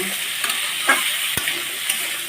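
Potatoes, pumpkin and carrots fry in a pan with a steady close sizzle, broken by a few light spatula taps and clicks against the pan.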